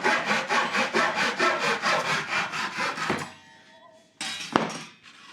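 A sharp hand saw cuts through wood in about a dozen even, rhythmic strokes, loud and close, then stops, followed by a couple of knocks and clatters.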